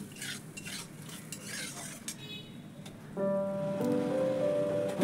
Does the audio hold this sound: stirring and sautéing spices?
yes